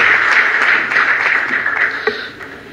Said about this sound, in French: J'ai dit sous vos applaudissements